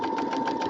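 A sewing machine stitches quilt pieces at a slow stitch length, a steady fast rhythmic whirring hum with even pulsing, close and continuous.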